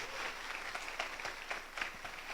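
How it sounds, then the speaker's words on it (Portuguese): Audience at a lecture on innovative mindset clapping in a faint, continuous patter throughout, with scattered sharper claps. "Pedir uma salva de palmas para o irmão Evilásio aí"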